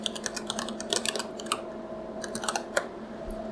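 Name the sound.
typing on a computer keyboard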